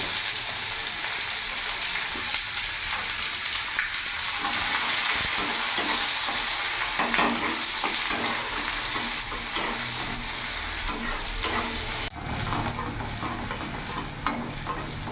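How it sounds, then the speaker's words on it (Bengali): A large onion frying in a pan of tempered whole spices gives steady, close sizzling with frequent stirring scrapes and clinks, loud and continuous, with a brief dip near the end and no talk. "ফোড়নটা ভাজা হয়ে গেছে, এরই মধ্যে একটা বড় সাইজের পেঁয়াজ আমি দিয়ে দিলাম"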